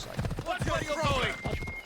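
Rapid hoofbeats from a horse in Assassin's Creed Odyssey clatter in a quick galloping rhythm, close and loud, with a horse whinnying and people talking over it.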